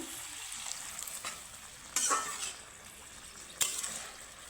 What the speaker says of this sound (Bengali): আর একটু জল দিয়ে দিব শিমটা সেদ্ধ হওয়ার জন্য